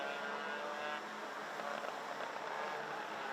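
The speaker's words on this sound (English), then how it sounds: "Oh, that's Joshua Graham that's got the noisy exhaust." Junior racing karts at the 2023 Genk Euro Trophy heat, one with a noisy exhaust, give a steady, loud, buzzing engine roar that holds without a break.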